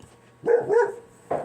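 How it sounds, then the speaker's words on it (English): A dog barks indoors near a window: two short, muffled woofs close together, then another bark starts after a brief pause. "Sorry about my dog. They like to bark at imaginary things"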